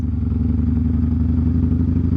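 Harley-Davidson Dyna motorcycle rolling over speed bumps on a road in the Netherlands, a close, steady low engine rumble with rhythmic pulsing and some clatter, heard alone.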